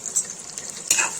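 Ghee and butter stirred in a pan for white shahi chicken korma: a soft scraping stir with a faint sizzle, brief bumps near the start and a louder scrape toward the end.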